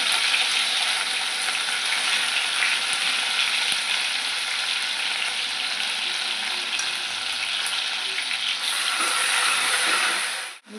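Cumin seeds and a chili, ginger and garlic paste fry in hot oil with a loud, even hiss that runs unbroken and then cuts off sharply at the very end; no voices.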